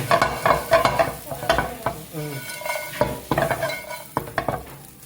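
Ingredients for a chicken and bitter melon noodle soup being dry-roasted in a pan, with repeated scraping stirs, clinks of a utensil against metal and a light sizzle, close and fairly loud, with no talking.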